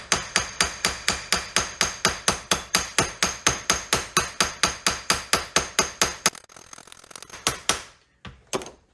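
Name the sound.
pointed hammer striking sheet metal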